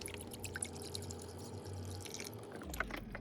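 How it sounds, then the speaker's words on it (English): Broth pours steadily into a pot over birria meat, a continuous close liquid splash and trickle running for a few seconds with no talk. "You want to pour enough broth until your meat is like fully submerged and covered"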